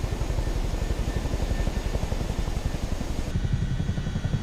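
A Boeing CH-47 helicopter in Microsoft Flight Simulator 2024, steady rapid rotor thudding over a loud engine drone, close and continuous with no voices.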